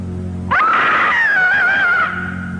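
A single loud, sustained scream rises abruptly and wails for about a second and a half over a low droning score in a 1976 horror film trailer, then cuts back to the music.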